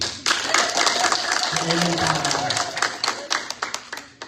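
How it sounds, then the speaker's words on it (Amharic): A congregation in an Ethiopian Orthodox church in Virginia claps in steady rhythmic unison, loud and close, while voices sing or speak over the clapping. "በደንብ አጨብጭቡ እስቲ።"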